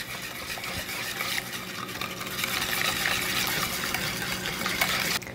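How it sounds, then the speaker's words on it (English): Onions sizzle in a pan for Korean cooking while being stirred, a dense steady frying hiss with soft scraping that grows slightly louder midway and carries on without talk. "And just mix it up. Try to get it to a nice consistent brown color."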